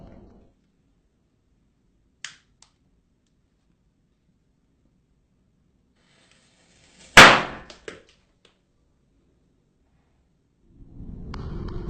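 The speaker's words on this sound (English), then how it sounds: "a mask covered in bananas with firecrackers embedded in them as he methodically lights each one" Quiet stretches broken by a small pop, then a louder firecracker burst that crackles briefly and fades, followed later by rising rustling noise.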